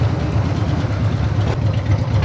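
A Harley-Davidson FXDB Dyna motorcycle idles nearby, a steady low lumpy engine throb with an even pulsing rhythm and no talk.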